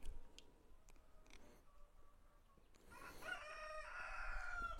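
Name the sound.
rooster crowing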